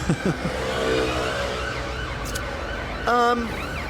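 An ambulance siren wails in brief bursts somewhere nearby while people talk over it, its rising and falling tones breaking through the conversation.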